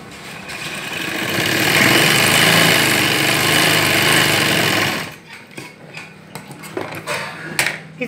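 A sewing machine stitches a child's Afghani salwar, giving a steady, close mechanical whir for about five seconds before stopping abruptly. Scattered handling clicks and rustles follow.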